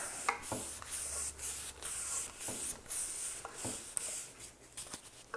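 Wadded wood shavings are rubbed along a handmade wooden ladder rung, producing a faint, continuous scratchy swishing with light irregular knocks, close by and with no one talking.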